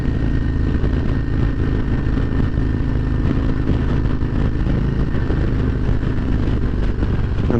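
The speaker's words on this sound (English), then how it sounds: "The exhaust sounds great though." Deep, steady exhaust rumble from a 2023 Harley-Davidson Road Glide Special riding at low speed, loud and continuous, with a low throbbing beat and no talking.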